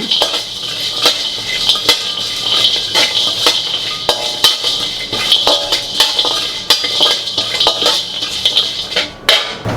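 Almonds roasting in a pan while a utensil stirs them, giving a steady run of close metallic clinks and scrapes with a faint background hiss throughout.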